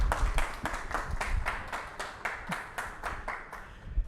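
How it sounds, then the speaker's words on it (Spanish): A small studio audience claps to welcome a guest on a talk show about the God of War video game: quick, fairly even hand claps close by, lasting a few seconds with no talk over them. "Un aplauso para Laura Luna."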